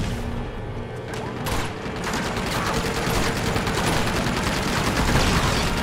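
Sustained rapid machine-gun fire in the action game Uncharted 2, growing louder and denser after the first couple of seconds, with mechanical clatter mixed in.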